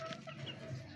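A black chicken clucks softly a few times, faint and close, over quiet farmyard background.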